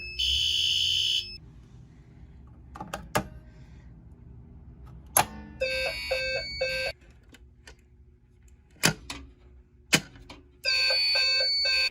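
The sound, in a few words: fire alarm ringing after being pulled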